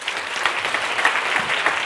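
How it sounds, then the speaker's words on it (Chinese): Audience applause in a university lecture hall welcoming a business chairman to the stage, a steady dense patter of many hands clapping throughout, fairly close and unbroken. "大家鼓掌"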